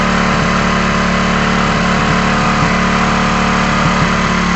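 A motorcycle engine holds at high RPM, a loud, steady and unbroken drone with a faint rhythmic pulse throughout.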